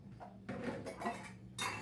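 Dishes and steel utensils being washed in a home kitchen, with a few close clinks and clatters of pots and cutlery knocking together, no talk.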